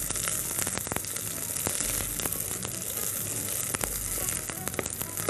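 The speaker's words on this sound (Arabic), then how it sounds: "انا بشوحها كده بس تشويحه سريعه" Onion being quickly sautéed in a pan for white bean soup gives a dense, continuous sizzle with crackling pops, close and steady throughout.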